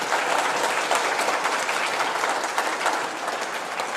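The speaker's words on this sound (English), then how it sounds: "So if we could just give them a round of applause." A church congregation applauds loudly and continuously at the close of a sermon, a dense wash of many hands clapping at close range for several seconds.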